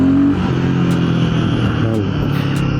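Royal Enfield Guerrilla 450 motorcycle pulling away in first and second gear on a city street, a loud close engine drone that climbs with a gear change, with faint clicks of other traffic around.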